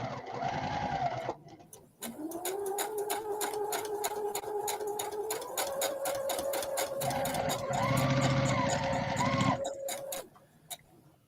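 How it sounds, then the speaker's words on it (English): A sewing machine stitches scraps in rapid, even mechanical bursts, pausing briefly and then resuming for long runs, up close with a faint whirring motor tone under the clatter. "So we're just both doing mindless sewing today"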